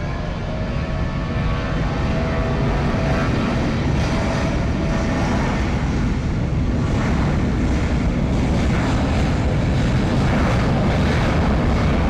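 A JetBlue airliner passes close at an airport in San Juan, Puerto Rico, its engines a loud, steady, broadband roar that holds throughout with some wind buffeting on the microphone.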